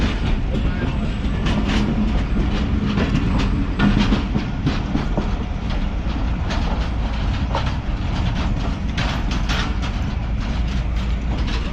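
Mohen Jo Daro passenger train in Sindh after heavy rain, heard from inside as a loud continuous rumble with rhythmic wheel clatter and rattling carriage mechanisms, close and steady throughout.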